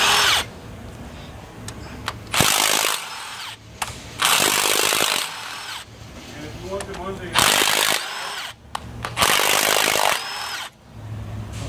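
A power drill whirs in repeated loud bursts, revving up and cutting off several times, with brief pauses between runs, removing tight bolts while replacing injectors on a Volvo D13 engine.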